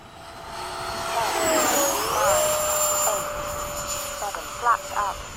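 A MiG-21 jet making a slow low pass, its engine whine rising and then sliding down in pitch as it goes by, loud and close, followed by a few short mechanical bursts.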